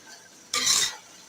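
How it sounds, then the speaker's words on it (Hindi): Grated carrot halwa being roasted and stirred in a pan over a medium flame: a single short scraping swish of a spoon against the pan, close and fairly soft, with quiet surroundings. "मीडियम फ्लेम पर ही हम इसकी भुनाई करेंगे"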